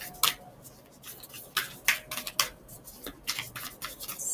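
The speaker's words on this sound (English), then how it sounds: "let's give it a couple of more shuffles here" A new tarot deck by Kyle Gray being shuffled, with repeated soft papery riffles and brushing bursts scattered irregularly across the clip, close and fairly quiet, with no talking.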